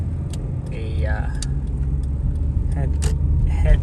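Car interior on a back road in a 2005 Honda Civic that needs brakes, with a steady low engine and road rumble throughout and brief metallic rattles and clicks over it.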